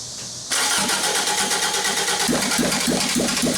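Toyota AE86 Corolla's bike-carbed 4AGE engine cranks briefly, then catches and fires up, settling into a loud, steady running note with a rhythmic pulse close by.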